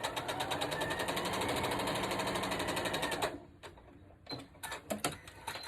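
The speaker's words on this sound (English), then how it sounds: "I am just going to stitch these together." A sewing machine stitches quilt pieces together with a fast, even mechanical chatter for about three seconds, then stops, leaving a few scattered clicks and handling noises.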